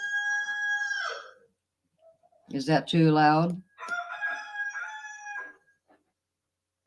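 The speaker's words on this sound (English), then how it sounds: "Can you guys hear the roosters?" Rooster crowing played back through a tablet speaker and picked up by a microphone, with a long full crow in the middle and shorter tonal calls before and after. A person speaks briefly near the end.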